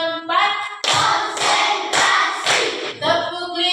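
Classroom pupils clap in loud rhythmic bursts of a set clap pattern, four strong group claps spaced about half a second apart, with children's voices chanting before and after.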